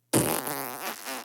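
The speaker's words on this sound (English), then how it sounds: "And that is a fart." A loud, close fart lasting about a second, a sustained buzzy rasp with a wobbling pitch, heard alone with no talk, in a toilet-stall setting.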